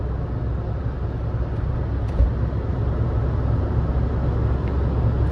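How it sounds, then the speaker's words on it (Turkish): Steady broadband roar inside a Fiat Fiorino 1.3 van driving at speed, wind rush mixed with low road and engine rumble, constant and fairly loud throughout with one brief knock near the middle. "Başladı şu an ooo diye bir rüzgar sesi almaya başlıyor."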